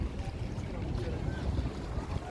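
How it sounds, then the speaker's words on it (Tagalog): Many boats crowded into a busy harbor as island-hopping trips return, with a steady rumble of engines, wind buffeting the microphone and the wash of water close by. "Grabe, ang daming bangka po dito."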